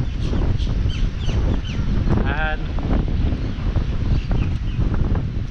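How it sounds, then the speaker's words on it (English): Strong gusting wind buffets the microphone continuously on a very windy day outdoors at a pick-your-own farm, a loud broadband roar with brief talk over it. "It's a very, very windy day"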